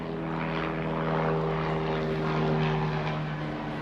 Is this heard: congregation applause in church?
no